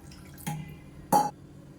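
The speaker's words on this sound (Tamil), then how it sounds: "இப்போ தேவையான அளவுக்கு தண்ணி சேர்த்துக்கலாம்" Water is added to a mango curd curry with a coconut-yogurt paste, coming as two short bursts of pouring liquid splashing into the pot, close and fairly quiet, with no talking.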